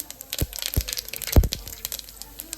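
Mustard seeds, urad dal and cumin crackle in hot oil inside a pressure cooker, giving irregular sharp pops and snaps over a hissing sizzle, close and fairly loud.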